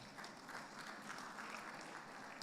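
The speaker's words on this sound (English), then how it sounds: "Can we have another round of applause for" Applause at an international conference and annual general meeting, a round of clapping from the assembled delegates, continuous but faint and distant throughout.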